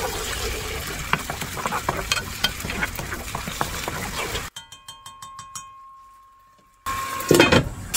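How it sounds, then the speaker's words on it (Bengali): Loud, crackling sizzle of a ginger, dried chili and cumin paste frying in oil, with stirring and clinks, then a sudden quiet gap with faint tones before the sizzling returns. "এটা ভালো করে আগে ভাজা নিই মশলাটাকে।"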